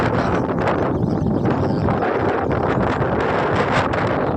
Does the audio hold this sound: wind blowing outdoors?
yes